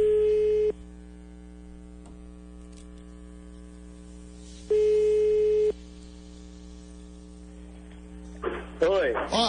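A telephone busy signal beeps steadily over a mains hum, with tone bursts around the start and middle, and a brief voice comes in near the end.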